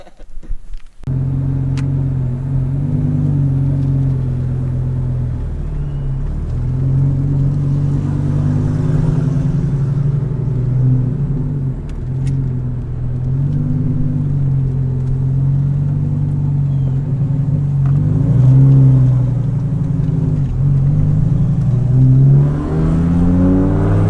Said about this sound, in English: we're gonna take it for a little cruise around the block.